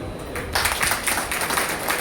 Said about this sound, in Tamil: நல்ல கரகோஷம்